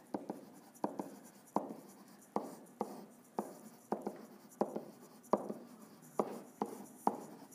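Pen writing out algebra by hand on paper, a regular series of short scratchy strokes, about a dozen evenly spaced marks, close and fairly quiet with no talking.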